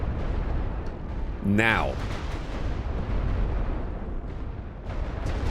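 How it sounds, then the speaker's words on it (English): A rolling artillery barrage in a war video game: a continuous roar of heavy rumbling explosions persists throughout, loud and dense, with a brief voice and a rising tone cutting through near the start. "those rolling barrages happened way too fast"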